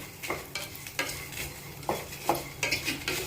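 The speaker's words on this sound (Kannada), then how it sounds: "ಧನಿಯಾ ಒಂದು ಎರಡು ಟೇಬಲ್ ಸ್ಪೂನು ಚೆನ್ನಾಗಿ ಫ್ರೈ ಮಾಡ್ಕೊಳ್ಳೋಣ ಲೋ ಫ್ಲೇಮಲ್ಲಿ" Cloves, urad dal and coriander seeds frying in a pan on low flame, with a soft steady sizzle and a few scraping stirs, no talk.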